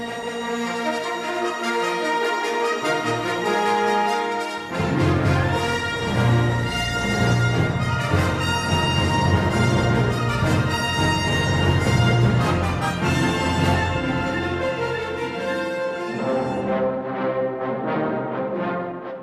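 An orchestra plays the 1976 music for the first Star Wars film. It opens softly, swells into a full, loud passage after a few seconds, then thins out near the end, with no talking.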